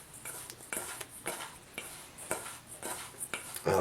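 A brown sugar and cinnamon crumb mix being worked in a bowl for apple fritter bread gives repeated scraping, clinking strokes of a utensil against the bowl, roughly every half second, close and steady, with no talking.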